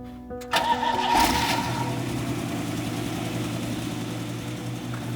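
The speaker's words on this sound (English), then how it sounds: "She's a 1958 Pontiac with a 283 V8 in her." A 1958 Pontiac with a 283 V8 cranks briefly, then fires and settles into a loud, steady, rumbling idle close by.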